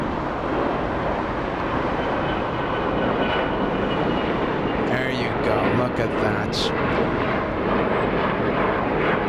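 A British Airways airliner at LAX airport, a heavy continuous engine roar that fills the scene throughout, with a voice speaking briefly over it midway.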